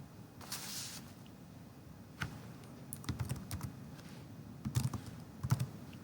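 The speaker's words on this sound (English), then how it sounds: "we're going to go on the command line on Linux and we're going to type Wireshark" Keystrokes on a computer keyboard as a command is entered on a Linux command line, a few sparse taps and then quicker bursts, quiet and close, with no talk.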